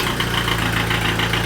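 An Audi S3 engine runs at a steady idle after starting, a low rhythmic rumble with a faint knocking pulse, close and continuous with no voices.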